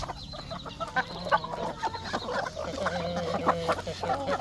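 Village chickens on a chicken farm cluck steadily in a busy flock, many soft, short calls overlapping at moderate loudness over a low background hum.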